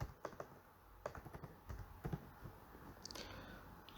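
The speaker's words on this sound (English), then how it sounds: "You just type in average true range." Keystrokes on a computer keyboard while entering an indicator name into a trading chart search, quiet irregular clicks in short bursts with brief pauses, close and alone without talk.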